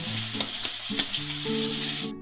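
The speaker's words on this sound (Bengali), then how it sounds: "পেঁয়াজটা আমার খানিকটা ভাজা ভাজা হয়ে এসছে" Onions fry in a pan for a bhola fish curry, giving a dense, steady hiss of close sizzling with soft stirring ticks and a quiet melody underneath, cutting off abruptly at the end.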